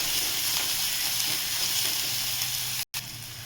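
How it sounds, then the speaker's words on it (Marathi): Chopped onion sautéing in a pan for a spicy Maharashtrian moong-matki usal, a steady dense sizzle and hiss held close and loud throughout, with a brief cut to silence near the end. "कांदा पण छान परतून घ्यायचा आहे"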